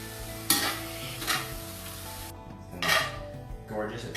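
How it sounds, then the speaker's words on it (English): Roasted vegetables with peas and carrots get a final stir in a hot pan, a continuous sizzle broken by several loud scraping strokes of the utensil against the metal. "I'm going to give this one final stir."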